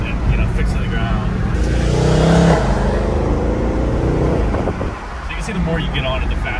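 A sports car engine revs up hard and holds a loud, rising growl, then eases off as it rev-matches on a downshift, heard up close from inside the cabin.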